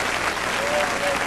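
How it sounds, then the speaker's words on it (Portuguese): A church congregation applauds steadily during a sermon, dense clapping filling the brief moment, with voices mixed in underneath. "Aplausos para Deus agora. Aplauda mais, aplauda mais, aplauda mais."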